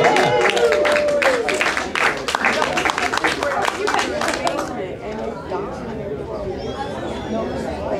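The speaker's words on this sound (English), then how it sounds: "Let's get a little energy, get some clapping going for my very funny, very talented partner in crime here." Open mic comedy audience at a brew house gallery claps and chatters after being asked to cheer, a loud burst of scattered hand claps that thins and fades to murmuring crowd noise by the end.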